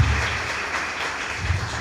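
An audience at a Hindi talk on superstition breaks into applause: steady, dense clapping that holds at an even level for about two seconds.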